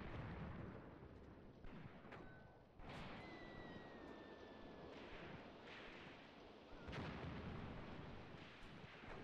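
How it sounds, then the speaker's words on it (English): Heavy booms of artillery fire in the game Graviteam Tactics: Mius-Front punctuate a dense background of battle noise and machine-gun fire, with distant whistles and rumbling blasts spaced a few seconds apart. "some of our artillery begins to come down, and heavy machine gun fire starts to suppress the Russians"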